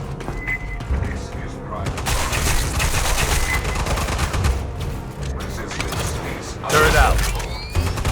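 Deployed automated turret firing in the Aliens: Fireteam Elite 2 video game, sustained loud bursts of rapid gunfire mixed with booms and combat noise throughout, with a louder surge near the end.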